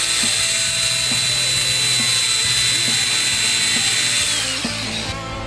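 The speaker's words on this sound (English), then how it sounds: "take this here grinder and just cut that off" An angle grinder cuts off the seat inflator switch on a Deere 300G construction machine, a steady loud whine with a high tone running throughout and faint knocks, no talking.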